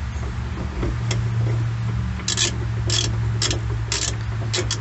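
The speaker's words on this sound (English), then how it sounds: "Go ahead and reverse the ratchet." A hand ratchet turns the fuel filter housing on a 2.8L Duramax Chevrolet Colorado, giving a string of quick clicking bursts over a steady low mechanical hum, close by and without talk.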